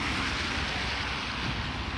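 Heavy rain pours down hard in Leeds city in the evening, a loud, dense and steady hiss with wind-like roar that fills the whole stretch, with no voices.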